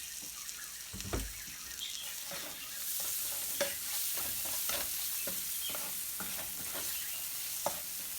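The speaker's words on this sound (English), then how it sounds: "is sauteing the garlic, the onions, and the cilantro" Garlic, onions and cilantro sautéing in a little oil, a soft continuous sizzle with repeated scraping and clicking of a utensil stirring through the pan, fairly quiet and close.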